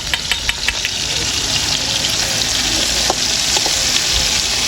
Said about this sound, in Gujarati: જુઓ ખાલી વઘાર વઘાર કેવું આવે છે. વઘાર જોરદાર માર્યો.